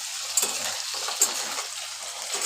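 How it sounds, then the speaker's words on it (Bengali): Nigella seeds sizzle in hot oil for tempering a Bengali bottle gourd and potato curry, a steady bright crackle with light stirring and utensil taps, close and continuous, no voices. "একটু কালো জিরে দিয়ে দিলাম ফোড়নে।"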